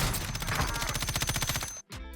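Rapid gunfire from the video game Warzone rattles out in quick, evenly spaced shots, loud and close. It breaks off briefly near the end before a few more shots.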